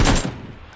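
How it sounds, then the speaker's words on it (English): A single loud gunshot burst from the PUBG battle royale game cracks at the start, then a short reverberating tail fades out over less than a second. "I think I missed those shots"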